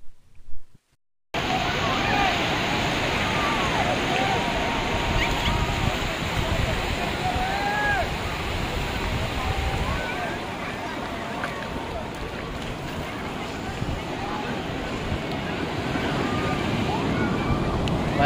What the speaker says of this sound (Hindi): भाई भाई लहरें देखिए कितनी गजब है भाई,